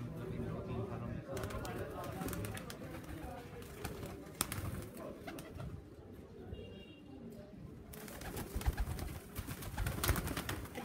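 Champion flying pigeons from Sargodha coo softly in a loft, a low repeated cooing set back behind close, steady talk, with some bumps and rustling in the background.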